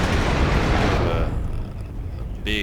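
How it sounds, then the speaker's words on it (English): A laser-guided bomb blasts into a beachhead in the WARNO war game, a dense, rumbling boom that fills the clip and slowly decays, with a brief sharp burst near the end. "A laser-guided bomb takes out the engineers in this beachhead"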